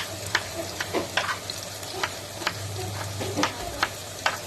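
Cut potatoes frying in hot oil for homemade fries, a steady close sizzle broken by repeated sharp crackles and pops.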